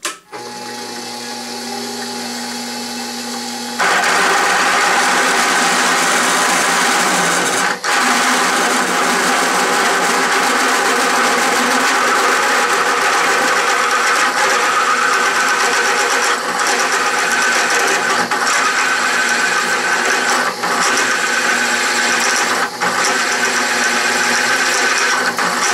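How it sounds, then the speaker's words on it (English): A drill press boring with a 3/4-inch bit at 500 RPM, driven by a DC motor, gives a steady loud mechanical whir and grinding drone that holds from start to finish after a brief quieter run-up. "I switched to a 3/4-inch drill bit and I raised the speed to 500 RPM"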